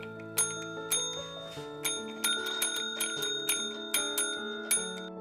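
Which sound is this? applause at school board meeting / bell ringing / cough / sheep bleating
bell ringing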